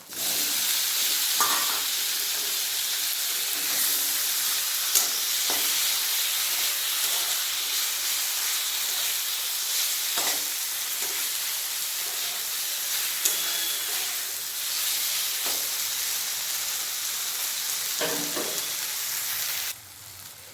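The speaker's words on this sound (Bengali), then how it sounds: "পেঁয়াজ ভাজা হয়ে গেছে এর মধ্যে দিয়ে দেবো একটা টমেটো" Continuous sizzling of tomato frying with onions in a pan, with occasional stirring clinks, steady and close, ending abruptly.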